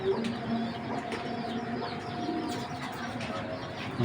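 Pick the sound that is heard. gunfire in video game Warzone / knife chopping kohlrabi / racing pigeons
racing pigeons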